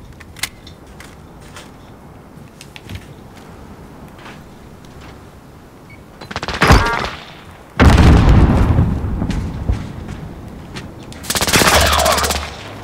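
Automatic gunfire rattles in bursts during a video game gunfight, with quiet ambience first, then loud sustained volleys and booming shots closing in near the end.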